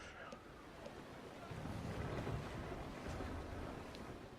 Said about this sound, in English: So completing the tack now.